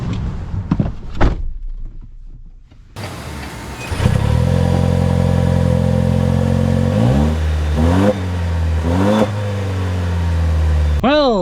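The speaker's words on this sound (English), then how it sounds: "let us set off in the Land Cruiser" A Toyota Land Cruiser with a 4-liter V6 sets off, with a door thunk and short talk, then the engine starting and revving up loudly up close through several rising gear pulls.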